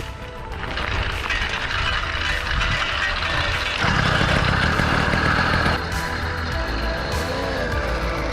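Vintage 100cc motorbike engine with choke on, sputtering into life and settling into a steady, buzzy idle, close and fairly loud with a rise in pitch midway.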